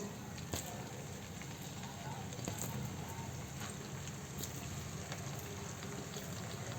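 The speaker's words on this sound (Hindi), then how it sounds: "तो अब मैं शामिल करने लगी हूँ कोफ्ते, फ्राई करेंगे इनको।" Chicken kofta meatballs frying in about a cup of oil in a kadhai: a steady low bubbling hiss with occasional pops, faint and continuous throughout.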